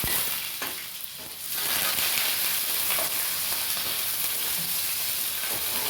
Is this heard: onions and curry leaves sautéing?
yes